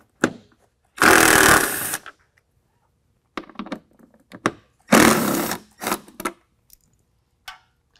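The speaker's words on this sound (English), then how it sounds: "And then a 10 millimeter to take out the two bolts." Two loud, sustained whirring bursts from a power tool removing bolts with a 10 millimeter socket on a 2022 Ford Bronco, each lasting about a second, separated by clicks and clunks of handling, close up with no voices.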